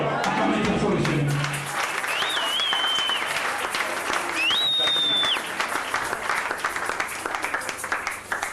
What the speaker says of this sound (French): Acclamez une fois le Seigneur.